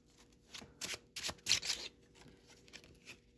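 Tarot cards are shuffled and handled close by, a series of quick papery riffles and snaps in irregular bursts, fairly quiet with no voice.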